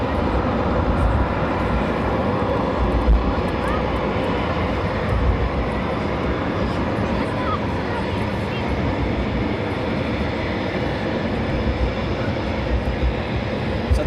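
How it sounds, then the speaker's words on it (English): Eurofighter Typhoon jets taxiing at RAF Coningsby at night give off a steady, loud broadband engine roar that holds level without pause, with no clear individual passes. "Typhoons are now taxiing out"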